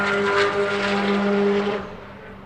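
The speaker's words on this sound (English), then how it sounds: "Car sounds a lot better out there." A race car at a time attack event at the Ascend Music & Motorsports Festival roars past with a strong tonal engine whine that holds, then fades as it pulls away into the distance.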